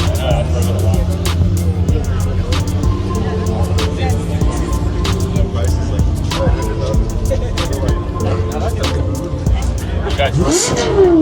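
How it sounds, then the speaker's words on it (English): A McLaren 720S supercar pulls away at a busy supercar meet, its engine note steady and fairly loud amid crowd chatter and other idling cars, with a brief surge near the end. "And we have a beautiful McLaren leaving the scene here"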